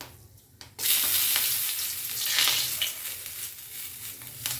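Dried red chilies and bay leaves hitting hot oil for Bengali shukto, a sudden burst of loud sizzling after a quiet start, swelling and then settling into a steady, close crackle.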